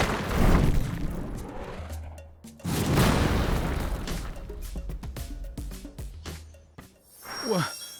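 Heavy cannon blasts from a tank in the Sand Land video game, several booming explosions with crashing debris, set against rumbling engine noise and music, with a rising whoosh near the end.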